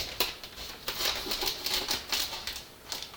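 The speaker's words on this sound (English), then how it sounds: "take out some scissors so I can cut this open" Scissors snip and slice through a package with a quick series of crisp cuts and rustles close by, with no talk.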